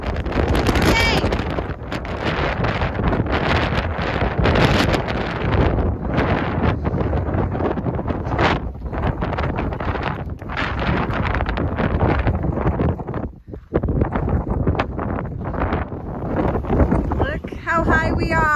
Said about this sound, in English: We're losing the hats! It's so windy!